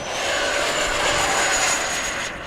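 An E-flite SU-30 twin 70mm electric ducted-fan RC model jet roars steadily overhead during a touch-and-go with gear retracting, a continuous whooshing whine with a thin high tone, loud and close throughout.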